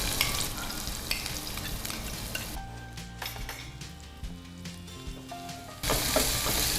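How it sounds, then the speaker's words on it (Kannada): Onions frying in refined sunflower oil while being stirred, a loud continuous sizzle with scraping strokes of a spatula in the pan, briefly quieter in the middle before surging again. "ಇದು ಹಾಗೆ ಹಸಿ ವಾಸನೆ ಹೋಗುವ ತನಕ ಚೆನ್ನಾಗಿ ಫ್ರೈ ಮಾಡಿ"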